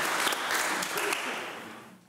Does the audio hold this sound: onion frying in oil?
no